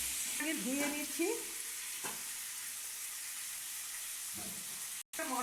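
Potatoes fry in oil in a pan with a steady low sizzle, some brief squeaky scraping early on and a couple of soft knocks, the sound cutting out for an instant near the end.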